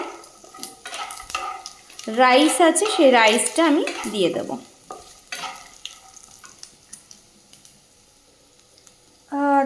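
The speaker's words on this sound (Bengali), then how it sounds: "কারি পাতা দিয়েছি, শুকনো লঙ্কা দিয়েছি, বাদাম দিয়েছি, চানা ডাল দিয়েছি। এবার এগুলো আমি ভাজছি।" Curry leaves, dried chillies, peanuts and chana dal fry in oil for lemon rice, a soft sizzle and occasional stirring clinks running under someone speaking close by.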